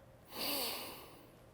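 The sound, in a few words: sniffing coffee aroma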